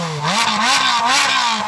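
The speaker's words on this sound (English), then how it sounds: "We'll get him to rev up his car, see if it sounds any better" Ferrari Speciale with a flat-plane crank V8 revving hard, a loud close-up engine note climbing and dipping through several quick throttle blips with no talk.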